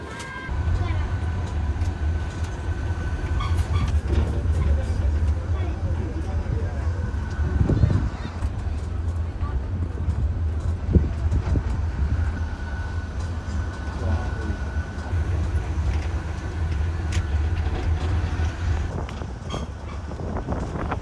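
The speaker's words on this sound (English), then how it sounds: "I almost never do this, but I'm taking the mini train." A small tourist mini train rumbles steadily through town, its low, continuous rolling drone and faint rattles close to the rider, with some wind buffeting and a few brief knocks along the way.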